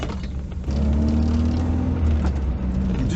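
A 1988 Toyota Hiace campervan pulls away and rumbles over a cattle grid, with a steady low engine drone and a small thump as the wheels cross.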